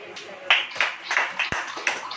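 A church congregation clapping in steady rhythm during a sermon, bright claps recurring about three times a second under a voice talking.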